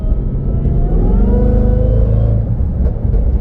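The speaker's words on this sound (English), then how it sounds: "from time to time I would downshift and get on the gas" The engine of a Jaguar F-PACE SVR revs up loudly and continuously on a downshift, a close, rising mechanical roar with a deep rumble underneath and no talking.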